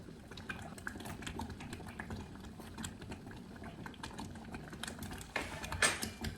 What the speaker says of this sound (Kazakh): Қатты қайнап жатыр.